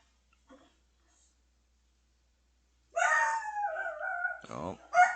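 Dogs bark and howl in a video game, a short burst of canine yelps and howls that starts suddenly after near silence and stays fairly loud before fading out.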